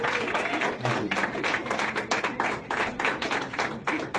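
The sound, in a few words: audience clapping for comedians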